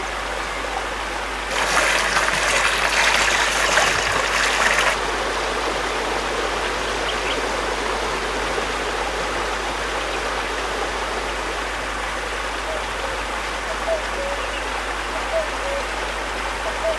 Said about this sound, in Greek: Το τραγούδι του καταράκτη,